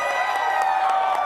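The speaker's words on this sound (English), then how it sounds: "I want a rousing round of applause yet again for Mr." An audience cheers and whoops at a live comedy and music show, with loud crowd noise holding steadily throughout and a strong tonal element sustained underneath.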